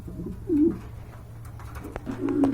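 Soft, low pigeon coos in two short bursts, near and fairly quiet over a steady low hum.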